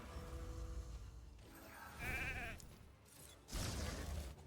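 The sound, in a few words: sheep bleating from sheep ability in video game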